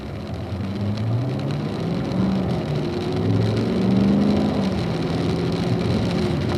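A Corvette on a track, its engine note rising and then falling away as the car slows hard to a stop, loud and close throughout.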